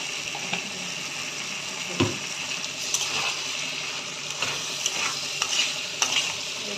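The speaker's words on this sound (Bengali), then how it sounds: "গ্যাস কমিয়ে আস্তে আস্তে করে নাড়াচাড়া করতে হবে" Cubed potato and ridge gourd fry in a pan over lowered gas while a spatula stirs them, giving a continuous sizzle broken by scraping strokes and occasional sharper knocks against the pan.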